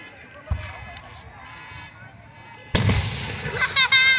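A fireworks show at Riches Farms in Fayette County: a distant thump, then a loud, close burst followed by crackling pops and whistles, with people talking and reacting throughout.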